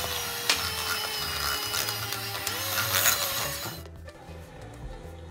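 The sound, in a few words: electric mixer mixing eggs into choux pastry dough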